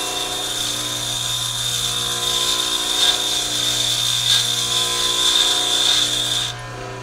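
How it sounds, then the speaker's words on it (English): A bench grinding wheel hums steadily while a lathe tool bit is ground against it, with a continuous high scraping hiss that stops abruptly near the end; no talking. "I'm going to grind from the back side and then work my way up to the front"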